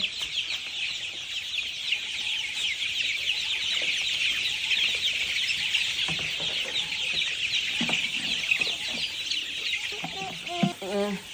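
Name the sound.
chickens clucking while being fed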